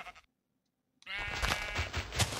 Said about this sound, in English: And there's a bunch of sheep just trapped in here.